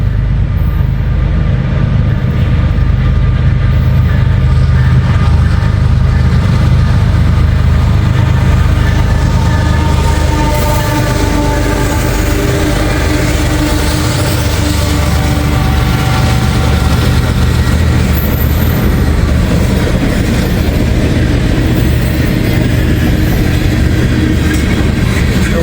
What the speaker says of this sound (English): This is CSX M506 right here, pal. Coming at ya